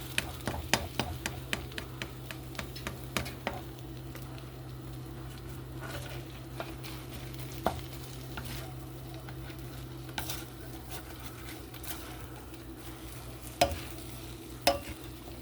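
Scrambled eggs cook in a pan for breakfast, a low steady sizzle under frequent light clicks and taps of a utensil against the pan, close and quiet, with no speech.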